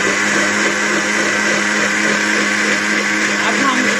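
A blender whirs steadily and loudly, whipping watermelon juice with fresh lemon juice in one continuous, even drone from start to finish, with no talking over it.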